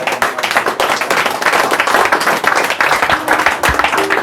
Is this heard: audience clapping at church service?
yes